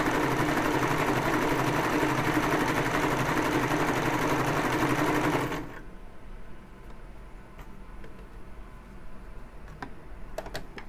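A Brother 1034D serger runs loud and steady as it chains thread, then cuts off abruptly about halfway through, leaving a quiet room with a few faint clicks.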